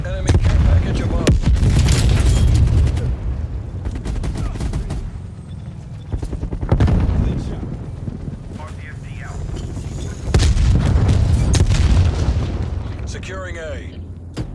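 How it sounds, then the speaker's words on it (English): Grenade blasts and gunfire in a video game battle, loud booming bursts recurring at several points throughout, with dense firefight noise and game voice callouts layered over it. "Throwing grenade."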